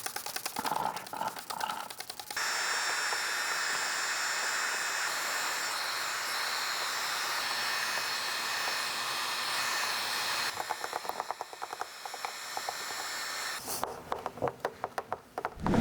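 A heat gun blows a steady, fairly quiet hiss across the edges of tint film on a Hyundai IONIQ taillight lens to seal it. Clicks and handling noises come before and after the airflow.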